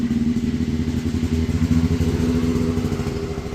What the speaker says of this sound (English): Someone driving by on a dirt bike.